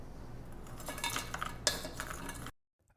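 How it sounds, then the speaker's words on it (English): A spoon stirs cornstarch into raspberries in a bowl, giving a few seconds of close, scraping clinks and soft knocks against the dish, then it falls silent. "Go ahead and stir that in."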